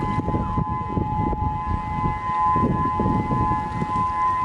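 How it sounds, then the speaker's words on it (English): A civil defense tsunami warning siren during a test, sounding a steady, sustained wail throughout over wind and low outdoor rumble, with no talking. "I don't know if that's a tsunami alert."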